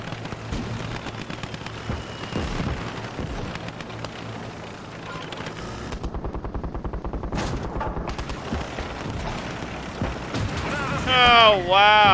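Dense gunfire crackles through a Russian military video game mission, with rapid automatic bursts and heavier booms running almost continuously and a voice talking over the fire.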